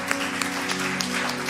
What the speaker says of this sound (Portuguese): Aplaudimos a Jesus